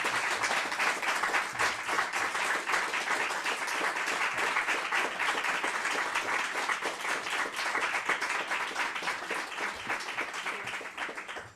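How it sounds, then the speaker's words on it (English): A crowd claps steadily at an immigration announcement for rural and Francophone communities in Sudbury, a sustained, even roar of applause from many hands that holds for over ten seconds before easing slightly at the end. "You guys are still clapping for yourselves"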